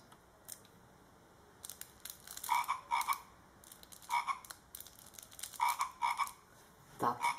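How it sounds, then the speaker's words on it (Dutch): Recorded frog croaks played from a children's sound book, arriving in short repeated clusters of raspy calls over a faint background, with small clicks and rustles of handling between them and no talk. "Dat doet de kikker."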